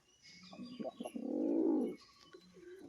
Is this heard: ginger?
no